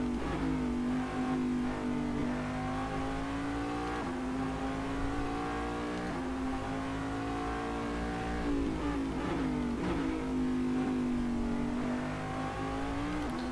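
Daytona Prototype race car in Assetto Corsa at Road America, its engine note climbing steadily through the gears in a loud, continuous in-car drone with brief dips at shifts.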